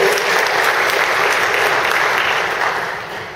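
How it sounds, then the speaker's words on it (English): A conference audience applauds and cheers at a regional training event, a steady loud wash of clapping that holds for about three seconds before starting to fade. "So let's cheer for each other."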